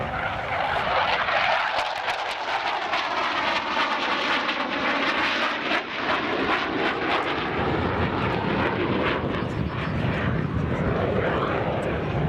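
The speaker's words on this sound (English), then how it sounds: "Dale Snodgrass in the F-14 and the wing sweep pad" An F-14 Tomcat fighter jet flying a display at the 1996 Cleveland National Airshow, its loud, continuous engine roar sweeping past with a shifting whoosh, heard alone throughout.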